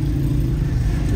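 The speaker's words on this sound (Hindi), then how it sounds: "यहाँ ट्रैफिक बहुत है" Steady low engine rumble of street traffic fills a busy bazaar in Thatta near a bus stop, a constant close drone of cars and motors with no clear pauses.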